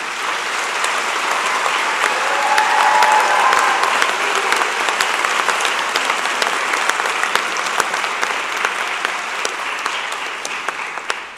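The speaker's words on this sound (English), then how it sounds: "Graduates, a round of applause, please, for the faculty." Sustained applause from a large crowd at a graduation convocation, steady clapping that fills the space for several seconds before tapering slightly.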